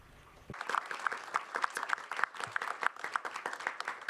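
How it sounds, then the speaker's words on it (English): After a brief quiet moment, a small conference audience at the Estonian Academy of Security Sciences breaks into applause for the organisers, with distinct, fairly close individual claps forming a lively, uneven rhythm. "Let's have a big round of applause."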